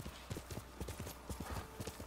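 Rapid clip-clop of a horse's hooves at a gallop in the video game Ghost of Tsushima, a quick irregular beat of soft thuds, fairly faint, with no talk.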